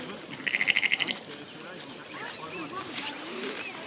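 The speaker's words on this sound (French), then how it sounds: "Voilà, mouton d'Ouessant." An Ouessant sheep kept for eco-grazing gives a short, quavering bleat near the start, with scattered bird chirps and people speaking French over the rest of the scene.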